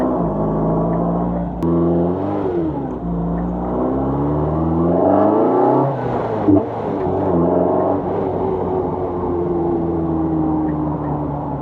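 A Lotus 340R roadster sports car, driven roof-off on a road, accelerates hard. Its engine note climbs steadily, drops briefly at gear changes, then climbs again. The engine is close and loud, and no one speaks.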